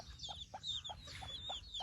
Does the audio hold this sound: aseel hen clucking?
yes